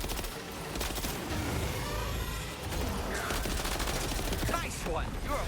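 Rapid gunfire in the Metal Gear Solid video game rattles in dense bursts throughout, mixed with engine rumble and other battle noise, sustained and fairly loud.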